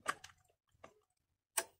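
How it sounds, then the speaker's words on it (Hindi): A Samsung ultra slim CRT TV's series board clicks on as power is applied, with a few short sharp ticks spaced across a quiet moment. "ये बोर्ड ऑन हुआ, क्लिक किया, अभी हाई वोल्टेज भी बन रहा है, हमें साउंड आ रहा है।"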